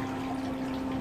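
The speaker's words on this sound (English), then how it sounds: "And then there's a little sort of a waterfall coming down." A small waterfall spills into an aquarium tank, giving a steady, close rush of falling, splashing water with a constant pump-like hum underneath and no speech.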